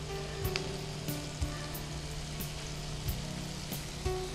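Steady, dense sizzle of frying in a pan with coriander being added, broken by occasional soft stirring knocks, close and even in level, with no voices.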